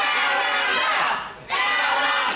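A wrestling crowd at a British Rules show shouting and cheering in unison, a loud sustained roar that briefly dips before surging back up.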